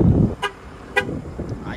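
Two short, evenly spaced electronic beeps from the warning beeper of a 2022 Ram 3500 pickup truck, close and clear over a low background rumble.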